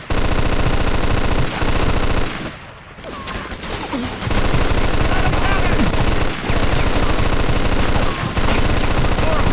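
A balcony-mounted machine gun in the game Mafia hammers out long, loud sustained bursts of rapid fire, broken by a short pause near the middle, with a voice briefly shouting over the clatter.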